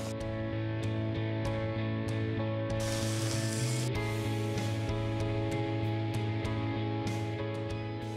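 Chopped capsicum drops into hot, sizzling masala in a pan for pav bhaji, giving a steady close frying hiss with a brief louder burst as the vegetables hit the oil, and no talk.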